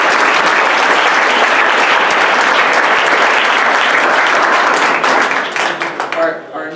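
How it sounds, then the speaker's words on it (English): A meetup audience at an Ethereum blockchain gathering in Denver bursts into loud, dense applause that holds steady and then thins out and fades near the end. "Round of applause."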